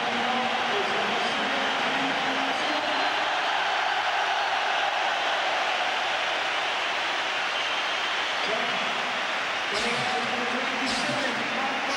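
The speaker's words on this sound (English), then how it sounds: "just listen to the applause that Henrik Larsson's going to get here" Large football crowd at a Celtic v Rangers match applauding Henrik Larsson as he is substituted, a dense, steady roar of clapping and cheering filling the whole stretch, with commentary voices over it.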